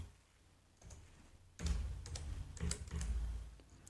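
Quick keystrokes on a computer keyboard, tapped while searching for a mesh-from-curve command in Blender, come in two short bursts of clicks after a quiet pause, close and fairly soft.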